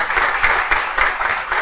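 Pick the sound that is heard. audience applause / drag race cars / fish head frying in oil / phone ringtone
audience applause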